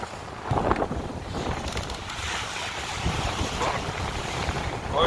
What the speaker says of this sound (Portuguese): O vento hoje tá meio esperto, viu? Tá acelerado hoje.